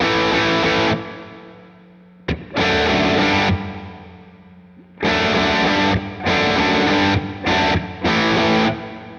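Distorted electric guitar chords through a Boss RV-6 reverb pedal ring out in bursts, with a reverberant tail that lingers and fades through the gaps between them.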